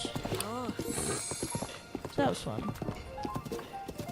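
Horse hooves clip-clop in the Stardew Valley video game as a rider travels, a light rhythmic patter heard under continuous talking from a nearby voice.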